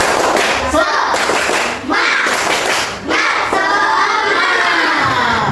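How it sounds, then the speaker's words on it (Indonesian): A classroom of students performs a rhythmic spirit clap, loud patterned handclaps in quick unison bursts with a few short pauses, the children's voices mixed in. "Coba tepuk semangat"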